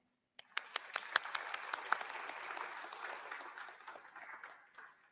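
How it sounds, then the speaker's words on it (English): Graduates at the Swenson High School Class of 2021 graduation ceremony break into dense applause that starts abruptly, holds steady for several seconds, then gradually thins out and fades. "Give yourself a round of applause."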